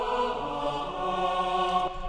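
Female and male choirs sing in octaves, women on the upper octave and men on the lower, in the orchestral score for The Polar Express: a sustained, blended choral chord held steadily and alone at moderate loudness.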